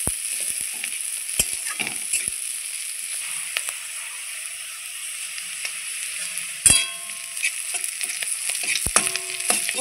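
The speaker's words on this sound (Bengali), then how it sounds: "আমি পেঁয়াজ রসুনটা লাল লাল করে ভেজে নেব।" Onion and garlic fry in hot oil, giving a steady close sizzle broken by occasional sharp pops and stirring clatter, with no talk over it.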